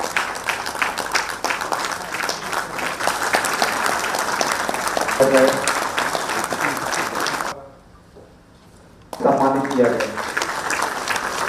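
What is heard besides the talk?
loud applause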